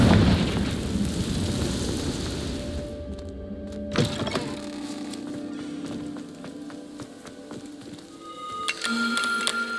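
A Confringo spell in Hogwarts Legacy bursts into a loud fiery explosion, followed by a rumbling tail and scattered magical impacts and chimes.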